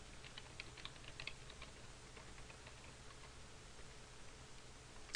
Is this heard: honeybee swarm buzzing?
no